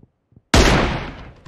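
A single loud, close gunshot from a gun in PUBG Mobile cracks out of near silence, then leaves a long, fading rumble and echo tail.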